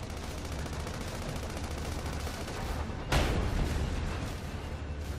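Heavy, continuous gunfire in the video game Sand Land, a dense rattling barrage with a sharper, louder blast about midway that carries straight on into more shooting.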